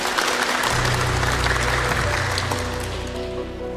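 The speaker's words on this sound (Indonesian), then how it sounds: "Tepuk tangan dong untuk Jawa Barat." An audience gathered for a speech by the West Java regional secretary breaks into sustained applause for West Java, dense clapping from a large crowd that carries on for the whole stretch.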